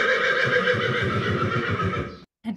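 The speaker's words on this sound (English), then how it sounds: "So that's a typically negative whinny. And positive whinny." A domestic horse gives a positive whinny, played back as a recording: a long, warbling, vibrato neigh that cuts off abruptly, followed by a brief fragment of another sound, loud and close.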